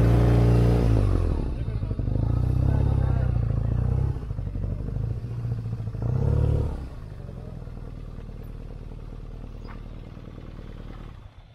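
A motorcycle engine runs nearby, rumbling and surging briefly at the start and again midway before settling to a lower idle, while people talk over it.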